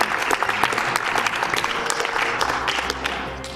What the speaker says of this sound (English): And thank you for clapping for the guy who clapped.